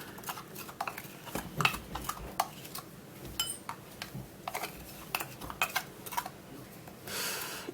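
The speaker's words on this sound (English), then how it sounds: "I'm going to be transferring this into a bowl." Blended potato is scraped and transferred into a bowl, giving repeated light clinks and taps of a utensil against the container, close and fairly quiet, with a softer rustle near the end.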